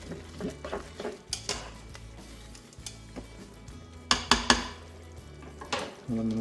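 A spoon stirs rice and chorizo seasoned with paprika and cumin in a Cookeo pot, with scraping and sharp metallic clinks against the pot over a faint sizzle, close and fairly quiet.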